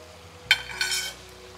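Prawn and radish masala stirred in a cooking pan, a short scrape and sizzle of the spoon through the thick mix in two quick strokes, close and fairly quiet.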